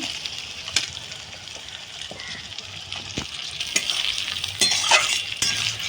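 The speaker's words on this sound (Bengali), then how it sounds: "পেঁয়াজটা হালকা একটু ভাজা হোক" Onions frying in a pan over a wood fire give a steady soft sizzle with occasional stirring scrapes and clicks, building slightly louder toward the end, with no talking.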